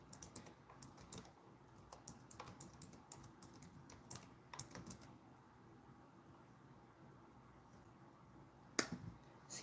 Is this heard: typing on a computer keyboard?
yes